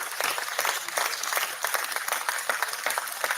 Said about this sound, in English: Clapping noises.